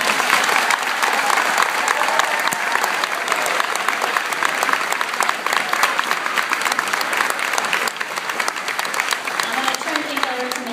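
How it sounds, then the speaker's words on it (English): Sustained audience applause at an elementary school third-grade choral concert, a dense, steady wash of many hands clapping close and loud for the full length without letting up. "Can we give it one more round of applause?"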